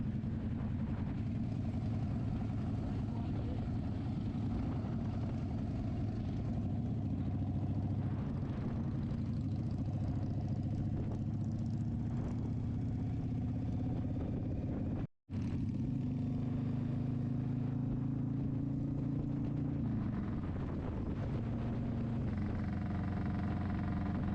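Motorcycle engine droning steadily while riding on Wisconsin roads, a continuous low rumbling hum with wind noise, one brief dropout midway, no talk.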